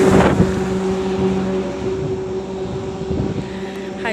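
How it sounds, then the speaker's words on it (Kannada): Strong wind gusting beside a highway, a loud continuous rumbling buffet on the microphone with a steady drone of passing traffic underneath. "ಹಂಗೆ ಇಷ್ಟು ಗಾಳಿ ಬರ್ತೈತಲ್ಲ"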